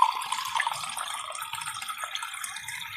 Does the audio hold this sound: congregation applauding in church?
no